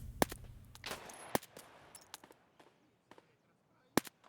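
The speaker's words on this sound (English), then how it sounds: "He's shooting at me." Gunfire from an AI scav boss in Escape From Tarkov, sharp sporadic shots, a few loud nearby cracks with fainter distant pops between them, spread irregularly over a few seconds.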